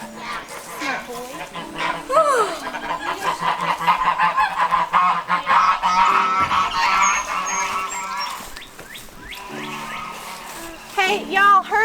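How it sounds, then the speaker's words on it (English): Farmyard geese honk repeatedly, loud and near, in overlapping bursts, with a dog barking now and then and people talking over them. "y'all heard the geese back then?"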